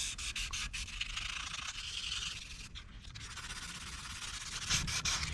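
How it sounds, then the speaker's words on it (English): Wet sanding of stainless steel trim on a 330, a continuous close rubbing and scraping with rhythmic back-and-forth strokes and no talking. "just wet sand it with everything else."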